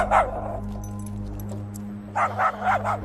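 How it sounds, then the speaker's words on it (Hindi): A dog barks and yips in a few short bursts, near and moderately loud over a steady low hum, during a tense scene in an action movie. "बहुत भौंक रहा ये कुत्ता"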